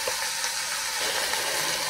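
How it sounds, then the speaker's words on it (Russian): Zucchini fry on a Jardeko grill with a steady, soft, continuous sizzle and no talking. "Здесь кабачочки у нас жарятся."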